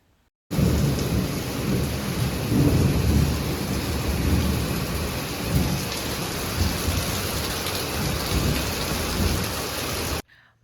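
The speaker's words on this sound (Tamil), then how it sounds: "ரொம்ப இடி மின்னலோட மழை பெஞ்சிச்சு" Heavy rain pours down steadily with deep rumbling thunder and lightning rolling underneath, loud and continuous throughout, in Salem, Tamil Nadu.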